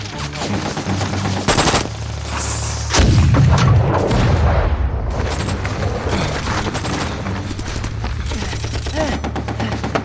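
Dense, loud gunfire and artillery booms fill a Korean War battle scene from the Huangcaoling blocking action, with rapid rifle and machine-gun bursts over a heavy rumbling blast that swells around the middle.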